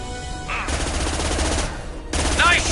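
Rapid bursts of gunfire from a sci-fi firefight in Mass Effect 2, loud and close, with sharp automatic volleys separated by a brief lull before another burst.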